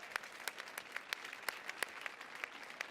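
An audience at a World Bank event with chef José Andrés applauds in a steady, fairly faint wash of claps with sharper individual hits standing out, and no speech over it.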